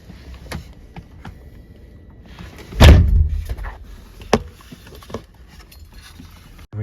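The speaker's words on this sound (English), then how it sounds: "we're gonna close the door." A Nissan 350Z car door slams shut once, a sharp loud thud midway, followed by a few lighter clicks and small knocks in a quiet setting.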